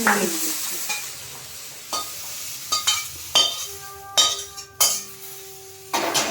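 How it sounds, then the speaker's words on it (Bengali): Jujube fruits fried and stirred in a pan for pickle, with an ongoing sizzle broken by about eight sharp scrapes and metallic clinks of the spoon against the pan and one ringing tone near the end. "মা এবার ওগুলোকে ভালো করে ভেজে নেবে"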